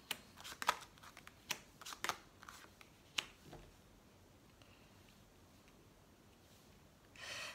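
Oracle cards sorted by hand, zodiac sign cards pulled out of the deck: a cluster of crisp close card snaps and shuffles in the first few seconds, then near quiet with a faint rustle at the end.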